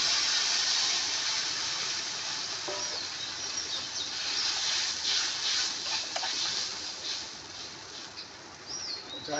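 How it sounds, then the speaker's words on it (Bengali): Water poured into a hot pot while cooking shol fish with unripe mango gives a continuous loud hiss and sizzle of steam that rises and falls slightly, with no voices. "এবার আমি জল দেব।"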